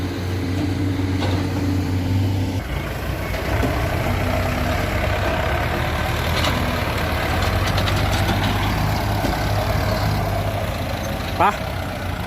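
A turbocharged Ford tractor engine idles steadily nearby with a low, continuous rumble, and someone talks over it.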